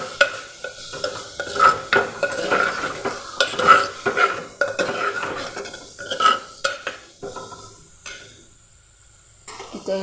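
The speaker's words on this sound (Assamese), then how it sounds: "আদা নহৰু দি আজি মাটিৰ হাঁড়িটোতে এই মাংস দুটুকুৰামান দি বিৰিয়ানী বনাইছোঁ" Meat with ghee, ginger and garlic being stirred in a clay pot for biryani, a steady scraping stir with soft sizzling and occasional utensil clinks, close and moderately loud, with no talk.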